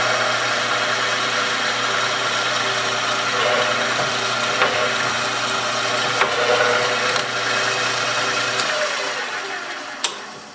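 A bandsaw mill runs steadily through a log, a dense continuous mechanical whir with a low engine drone beneath, holding loud and even throughout and easing slightly near the end with a brief knock.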